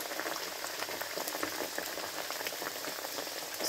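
Naan pakoras frying in hot oil, giving a steady, dense crackling sizzle with fine bubbling pops throughout, close and continuous, with a brief spoken word over it.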